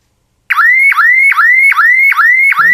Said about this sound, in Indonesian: Menutup pintu tidak akan mematikan alarm.